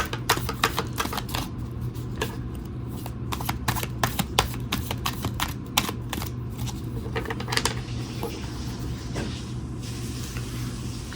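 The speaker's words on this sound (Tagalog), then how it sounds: "Balasahin po natin mabuti." Playing cards riffled and shuffled again and again, a dense run of quick crisp clicks and flutters over a steady low hum, close by with no talking.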